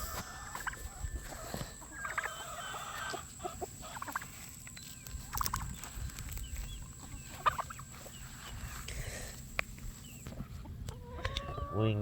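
Free-range turkeys gobble among clucking chickens in a farmyard, with repeated calls at a moderate distance over a quiet outdoor background.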